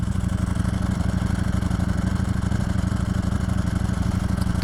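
A Ducati Streetfighter V4S motorcycle engine runs steadily close by, a dense, throbbing low rumble with a mechanical dry-clutch clatter, holding an even idle throughout with no talking.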